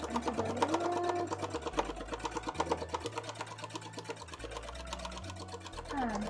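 A sewing machine stitches fabric for a Doppel cosplay costume, its rapid needle chatter running steadily and close, with brief pauses and speed changes as the work is guided backwards and forwards.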